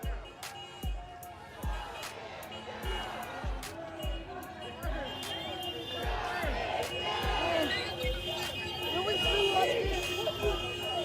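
A street crowd of protesters gathered after a police shooting in Lancaster, Pennsylvania, a steady babble of many voices with scattered shouts, punctuated by regular sharp rhythmic thumps, growing slightly louder toward the end.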